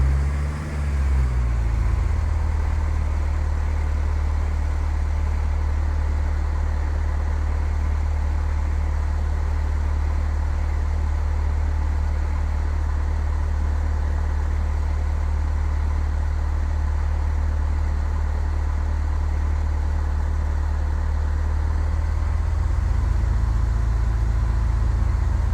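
A small aircraft's engine throttled back to reduced power in Microsoft Flight Simulator X, a loud, steady low drone that holds unchanged throughout with no voices.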